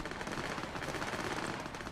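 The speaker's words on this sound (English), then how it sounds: "This shooting is going on forever." Sustained automatic gunfire in the video game Cyberpunk, a dense continuous rattle of rapid shots heard at moderate-low level without pauses, no talk over it.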